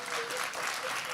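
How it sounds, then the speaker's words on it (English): A conference audience claps for a panel on HIV and race politics, a brief, even burst of many hands applauding. "let's give a round of applause for this excellent panel"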